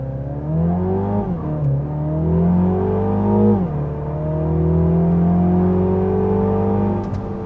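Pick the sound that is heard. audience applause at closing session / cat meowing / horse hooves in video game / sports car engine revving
sports car engine revving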